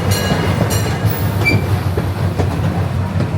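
The Lake Winnie tour train rolls along its tracks in a steady, loud on-board rumble with rhythmic clickety-clack wheel beats and brief high wheel squeals.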